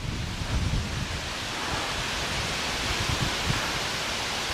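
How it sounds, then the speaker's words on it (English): Wind gusting outdoors on an exposed disc golf course, a steady broadband rush buffeting the microphone for the whole stretch, loud and unbroken with no voices. "It's windy out here."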